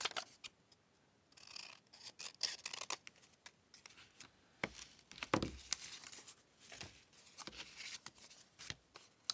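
Scissors snipping through paper to cut out a junk journal embellishment, with a close, irregular run of crisp cuts and light paper rustles, heard alone without talk.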